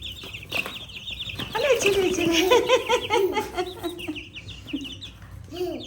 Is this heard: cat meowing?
no